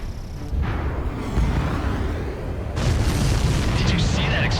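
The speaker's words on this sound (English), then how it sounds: "Did you see that explosion?" Explosions in the air-combat video game Ace Combat 7 boom loudly and roll on as a long, noisy rumble, with a second blast surging in partway through.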